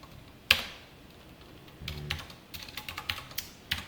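Programming code is typed on a computer keyboard: one sharp key strike, then a quick close run of tapping keystrokes with uneven rhythm and no talk.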